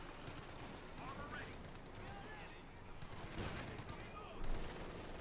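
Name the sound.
50 caliber machine gun fire in Company of Heroes 2 video game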